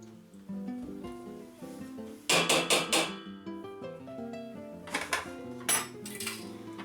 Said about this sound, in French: Le but étant de bien mélanger le yaourt dans le lait et qu'il n'y ait aucun grumeau.